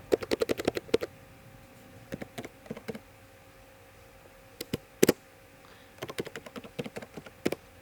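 Computer keyboard keys clacking in quick bursts as C++ code is typed, with short pauses between flurries; close, fairly quiet, no voices.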